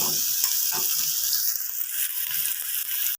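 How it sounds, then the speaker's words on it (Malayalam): Shallots sauté in a pan while being turned until golden for a tomato chutney: a bright, continuous close sizzle with soft rhythmic stirring scrapes and clicks, then the sound cuts off abruptly. "ചുവന്ന ചുവന്നുള്ളിയൊക്കെ ഒരു ഗോൾഡൻ കളറാകാൻ തുടങ്ങിയിട്ടുണ്ട്"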